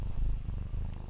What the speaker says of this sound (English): Can you hear those purrs?